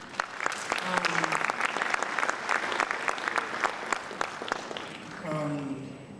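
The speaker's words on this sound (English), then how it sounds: "You deserve a big round of applause." Conference audience at an energy and climate resilience meeting in Freetown, Sierra Leone, clapping in crisp separate claps, with voices talking over it near the start and again at the end.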